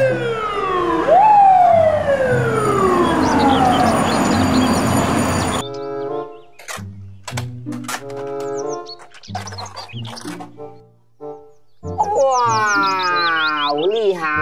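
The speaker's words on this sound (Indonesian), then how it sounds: "Mobil truk pemadam kebakaran." Toy fire truck siren wails loudly with a rising and falling sweep, then breaks into short electronic beeps and tones, ending with another warbling siren burst near the microphone.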